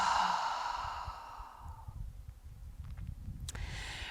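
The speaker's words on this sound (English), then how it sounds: "Deep inhale, opening the chest and the belly. And exhale." A deep exhale during a power yoga session, a long breathy sigh that fades over about two seconds, close to the mic, followed by soft rustling and faint movement sounds.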